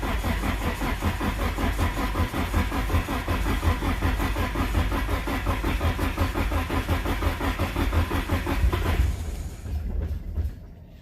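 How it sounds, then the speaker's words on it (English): A car engine cranks over and over with a fast rhythmic churning from the starter, loud and close for about nine seconds, then stops without catching. "Go ahead and try to start it."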